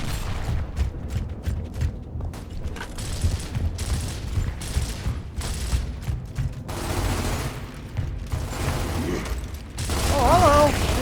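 Gunfire in the video game Gears of War Ultimate Edition, with repeated bursts of automatic shots and mechanical clanks over several seconds, mixed with game sounds and someone talking.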